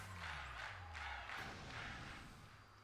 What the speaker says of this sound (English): This crowd's so loud I could wake the dead.